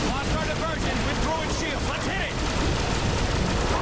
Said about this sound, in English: All right, I got a minigun.